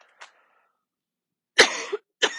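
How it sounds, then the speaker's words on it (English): A person who says they have had a lingering cough since COVID coughs twice, short harsh bursts heard up close after a brief soft sound and a pause of near silence. "I think I'm going to have a perpetual cough since COVID."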